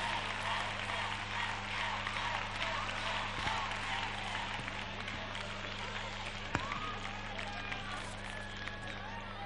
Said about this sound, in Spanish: Aplauso grande para ellas.